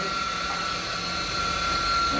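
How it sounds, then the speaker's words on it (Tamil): Steady, continuous whine of a power drill running in a neighbouring house, muffled through walls, holding a constant pitch without pauses. "யாரும் வந்து அந்த வீட்டில் வந்து ட்ரில்லிங் பண்ணுறாங்க."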